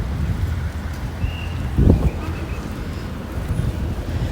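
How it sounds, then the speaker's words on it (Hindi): Storm wind gusting outdoors with rain, a steady low broadband rumble and hiss buffeting the microphone, swelling into a louder gust around the middle, with no voices. "इधर तूफान चल रहा है यार बाहर"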